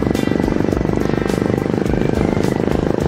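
A Royal Enfield 500 motorcycle's silencer roars with a loud, continuous, throbbing exhaust beat while the bike is ridden. The sound is close and has a sharp, bassy edge, with no talking.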